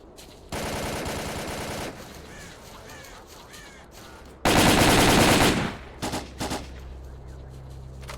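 Automatic gunfire from Stalker: Call of Pripyat erupts in two long, loud bursts separated by a quieter lull, followed by a few short trailing shots.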